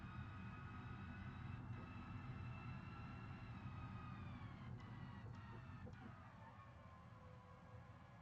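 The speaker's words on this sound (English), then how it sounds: "Listen to those lovely straight cut gears." Straight-cut gears whine in a BeamNG soapbox racing car as it pulls through the gears, a steady high tonal whine over engine rumble that sweeps downward with a few brief breaks at the shifts.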